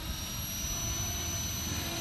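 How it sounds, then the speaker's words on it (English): A Walkera V450D03 radio-controlled helicopter in flight, heard as a continuous high motor whine with a steady rotor drone, holding even and unbroken for the whole short stretch. "the orientation is one of the tricky things about flying these helicopters"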